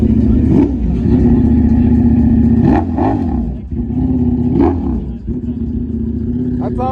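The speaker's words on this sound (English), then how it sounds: "That's how a Ducati sounds with an SC project. A V4. V4S actually, not just a V4." Ducati V4S motorcycle engine fitted with an SC Project exhaust, revving hard in repeated surges with a deep, loud growl that stays close and fills the scene.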